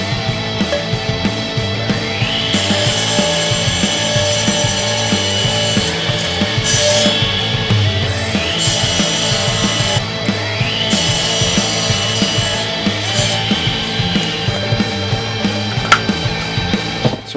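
A saw cuts through wood to make box supports, a loud continuous rasping with rising whining strokes repeating every couple of seconds, close and steady throughout with no talk.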